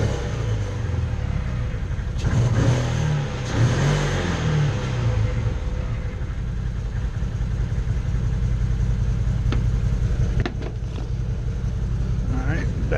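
A Commander XT 800R side-by-side engine idles, then revs in neutral in a few rising bursts before settling back to a steady idle, loud and close throughout.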